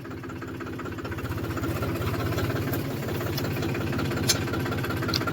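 A red farm tractor idles nearby, its engine giving off a steady, rhythmic low diesel throb with a mechanical knock. The sound is loud and even, with no speech.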